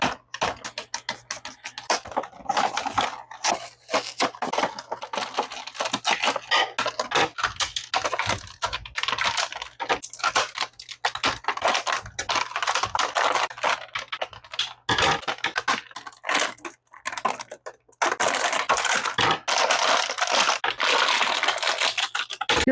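Turtles of Grayskull Michelangelo action figure packaging is opened by hand, giving a run of close crinkling, tapping and clicking plastic and cardboard sounds with no talking.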